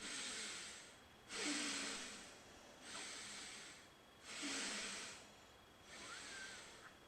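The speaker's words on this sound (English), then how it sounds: "Ujjayi breathing. So it's a little bit heavy breathing." Heavy Ujjayi yoga breathing during a session, five slow, audible breaths with a hissing, throaty rush on each exhale and quiet pauses between, close and alone.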